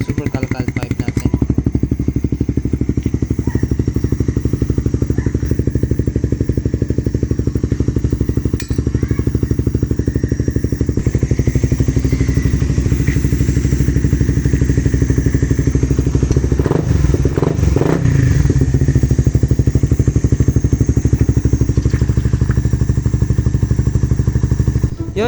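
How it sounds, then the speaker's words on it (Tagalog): A motorcycle exhaust fitted with a Super Kalkal pipe, silencer removed, roars loud and raw throughout with a crackling, clattering idle and revving, some thumps and blips partway through. "Tatanggalin natin itong silencer niya para marinig nyo yung original na tunog ng Super Calcal Pipe natin."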